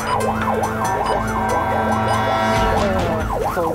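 An ambulance siren wails loud and close on a city road in China, its pitch sweeping up and down in rapid, regular cycles over a steady engine rumble.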